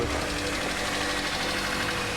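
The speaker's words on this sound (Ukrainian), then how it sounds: "Як так, що в нас гібридні автомобілі запускаються з півоберту, справді?" A hybrid car engine starts and runs with a steady, busy mechanical hum and light knocking, close by and continuous throughout.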